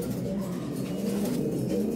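Khnissi pigeons in a loft in Tangier give a steady, low, continuous cooing throughout, close and moderately loud with no talk.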